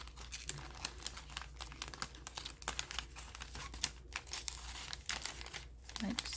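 A self-sealing cellophane bag crinkles in rapid, irregular bursts, close and fairly quiet, with a low steady hum underneath.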